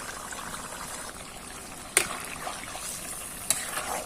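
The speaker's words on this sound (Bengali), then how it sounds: "এত তেল আছে তারপরে তলায় লেগে যাচ্ছে, তার জন্য অনবরত নাড়তে হচ্ছে।" Gourd boat curry frying in plenty of oil in a pan, with a steady low sizzle throughout and two sharp clanks of a spoon stirring against the pan, the second quieter.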